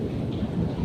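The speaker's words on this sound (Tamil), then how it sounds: "பயங்கரமாக இருக்குங்க மின்னல் வெட்டு, பயங்கரமாக இருக்குது." Rain pours steadily during a night thunderstorm, with a low rumble of thunder underneath, a short, moderately loud burst of continuous hiss.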